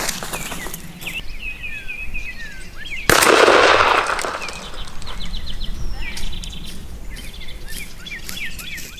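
A single loud, close blast from a Mossberg 500 20 gauge pump shotgun firing a Winchester Longbeard TSS turkey load at an outdoor pattern test, with birdsong chirping steadily before and after the shot.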